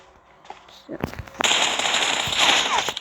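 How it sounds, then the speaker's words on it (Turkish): A grenade explodes in the PUBG Mobile video game: a few sharp pops, then a loud sustained crackling blast that fills the rest of the moment, close and dominant. "Bak bomba atmıştı"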